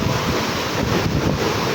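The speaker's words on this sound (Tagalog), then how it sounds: "So ito, mangin-hangin pa rin at maalon-alon." Strong wind buffets the microphone aboard a fishing boat at sea while choppy waves wash continuously, a loud, dense rushing roar with no pauses and no talk.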